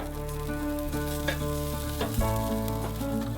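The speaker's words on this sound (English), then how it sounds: "I'm just going to pop that onto the grill next to the asparagus so it can warm through to make a really simple sauce" Sauce warming on a Napoleon electric portable BBQ grill beside asparagus, giving a steady close sizzle and crackle with a few sharper pops and spits.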